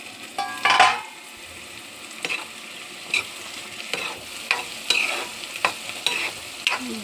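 Chopped capsicum sautés in a pan, a low background sizzle broken by a run of spatula scrapes and stirring strokes, the first one loudest, the rest recurring every half second or so.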